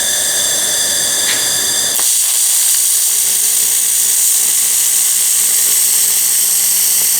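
A laser welder running flux core wire gives a loud, harsh high-pitched hiss and whine, shifting abruptly after a couple of seconds into a steadier broadband roar that continues unbroken, with no one talking.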